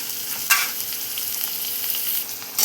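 Chopped onion and tomato frying in a pan for a boiled-potato vegetable dish, giving a steady close hiss with a couple of sharper stirring clatters near the start and end.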